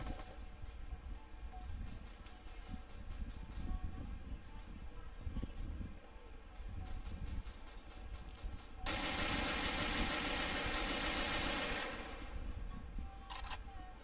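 Rapid bursts of automatic gunfire in the Garena Free Fire battle game, repeated volleys over steady game background noise, growing louder and denser partway through.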